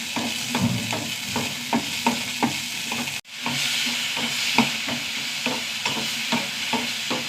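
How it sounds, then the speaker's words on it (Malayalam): Onion, chili and garlic sautéing in a pan for tomato chutney, a continuous close sizzle with a regular rhythm of stirring scrapes, briefly cut off midway before resuming. "ഉള്ളി, മുളക്, വെളുത്തുള്ളിയൊക്കെ നന്നായി വാടി വരട്ടെ."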